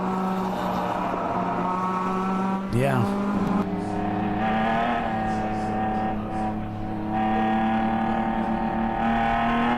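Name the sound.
race car driving on track, taking it easy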